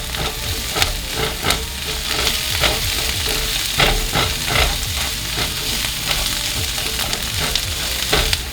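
Finely grated garlic fries in a pot with oil, a constant close sizzle overlaid by repeated scraping strokes as a spoon stirs it around.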